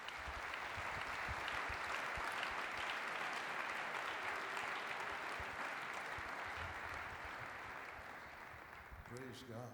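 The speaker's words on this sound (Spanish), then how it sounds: "Vamos a darle un aplauso a Dios." Church congregation applauding God during a service, a dense, steady burst of clapping from many hands that continues for several seconds before tapering slightly at the end.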